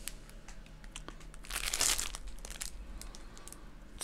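A plastic shopping bag crinkles as it is handled, soft rustles and crackles peaking in a brief louder crumple midway, close and quiet with no talk.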